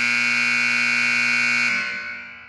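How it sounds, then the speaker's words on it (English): A timer buzzer sounds as a loud, steady, continuous electronic tone that holds for nearly two seconds before cutting off and fading, with no talking over it. "Buzzer's going off now."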